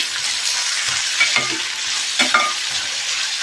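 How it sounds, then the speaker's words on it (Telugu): Vegetables with sweet corn, tossed and frying in a pan for a masala pasta, giving a steady close sizzle with a couple of brief stirring scrapes, no talking. "అన్నిటిని కూడా చక్కగా టాస్ చేసుకోవాలి."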